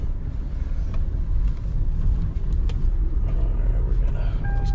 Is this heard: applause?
no